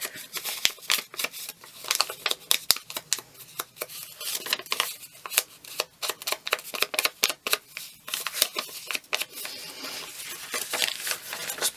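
Paper torn from a file folder while making a trifold journal cover gives a busy, close run of crisp ripping and crinkling bursts, uneven in rhythm and fairly loud, with no talking.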